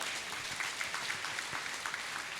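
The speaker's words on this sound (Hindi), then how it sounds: "जोरदार तालियां एक बार" Steady applause from a student audience at a motivational session, a dense continuous wash of clapping held at an even level throughout.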